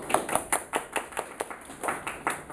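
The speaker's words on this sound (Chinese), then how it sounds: "掌声鼓励他今天的演讲" A small audience applauds after a seminar talk at a live data-mining meetup, with about a dozen distinct clap bursts coming in uneven rhythm and fairly close. No one speaks during it.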